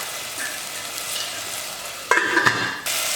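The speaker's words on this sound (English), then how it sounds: "And we let the tomatoes to cook" Tomatoes cook in a hot pan with a soft hiss that swells into louder, crackling sizzling about two-thirds through, then settles back to a steady fry.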